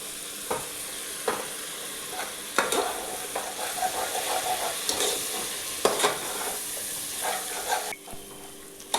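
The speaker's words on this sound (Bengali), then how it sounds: "মশলাটা কষানো হচ্ছে" Spice paste for mutton kosha, loosened with a splash of water, sizzles in a pan while a spoon scrapes and stirs in repeated strokes. The frying is steady and close.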